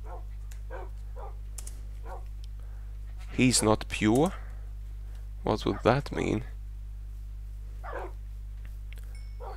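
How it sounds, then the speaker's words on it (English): Tamed dogs in the Minecraft video game yip and bark in short bursts, two clusters of several barks mid-scene with fainter yips around them, heard under a steady game hum while someone talks. "Here you go, dogs."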